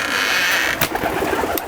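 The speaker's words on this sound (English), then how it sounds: "So look at the birds, they are comfortable there." Racing pigeons coo softly inside a one-loft race loft, low murmuring calls under a steady hiss of background noise, with a couple of brief bumps and rustles.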